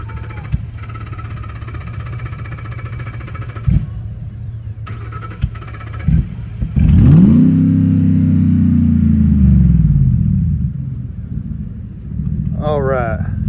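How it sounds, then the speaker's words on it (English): A truck engine idles low and steady, then revs up hard in a rising, sustained roar while pulling a stuck truck out of a hole, and settles back near the end. "Start it up, give it some gas."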